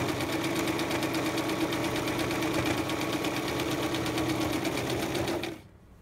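A sewing machine stitches a zipper in a steady, fast mechanical whir of rapid needle strokes that runs close and continuous, then stops abruptly near the end.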